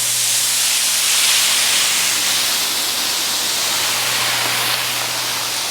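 Loud, continuous steam hiss rising off a hot home flat griddle while it is being scraped clean, a broad close rushing sound with a faint low hum underneath and no talking.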